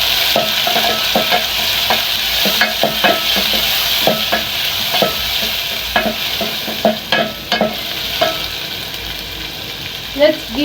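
Onions fry in a pan with a steady, loud sizzle for about ten seconds, broken by frequent clicks and scrapes of stirring.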